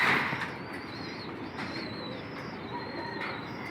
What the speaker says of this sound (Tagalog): Pero papakain muna tayo mga kalapatids.